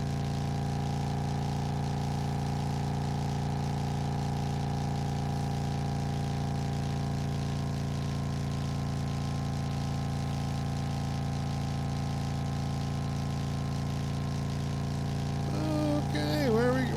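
Steady, droning vehicle engine in the driving game Drive Beyond Horizons, a constant low hum throughout, with a brief shift in tone near the end.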